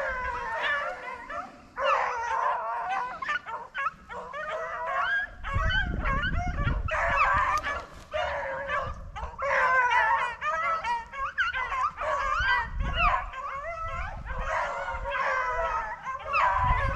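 A pack of beagles bays and howls continuously while chasing cottontail rabbits in Morris County, Texas, the overlapping voices rising and falling at mid distance, with no talk over them.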